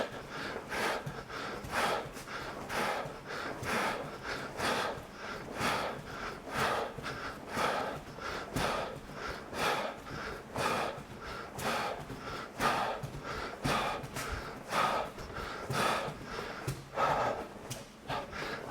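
Heavy rhythmic breathing from an athlete during the final set of a footwork training drill, steady sharp exhales and gasps repeating throughout, close and loud with no talking.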